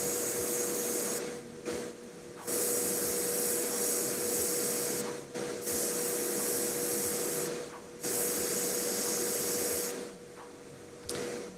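An airbrush sprays paint onto a miniature figure's cape with a steady close hiss and a faint whine, broken by several brief pauses as the trigger is released, running the whole stretch without any talk.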